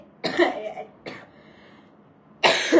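Three separate coughs, close and fairly loud, with short quiet gaps between them.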